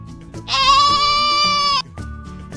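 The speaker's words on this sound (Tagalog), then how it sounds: "Kambing." A single loud, drawn-out goat bleat lasts about a second and a half close up, with quieter background sound before and after.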